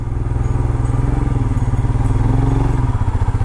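A motorcycle rides a misty ghat road on the Konkan coast. Its engine drones steadily and close, with a pulsing low-pitched rumble that lasts the whole time, and no voices are heard.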